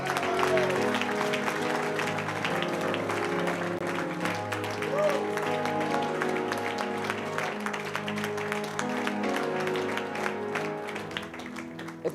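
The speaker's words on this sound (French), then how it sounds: "Tu peux acclamer Jésus pour ce qui a été dit." A church congregation applauding and cheering, continuous dense clapping with scattered shouts, loud and steady throughout with music or voices underneath.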